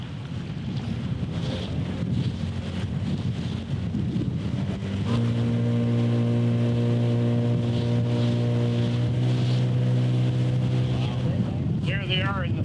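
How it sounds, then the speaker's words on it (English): Steady drone of a motorboat engine under wind buffeting the microphone, with a sustained hum that rises and holds as the boat speeds along Elmer Lake in the Northwest Territories. "we got a bit of a boat ride on Elmer Lake,"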